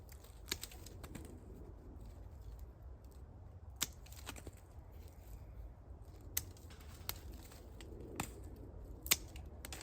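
Sharp pruning-shear snips cutting back raspberry canes in a spring garden patch, a handful of distinct, quiet clicks spaced irregularly over a low outdoor background hum.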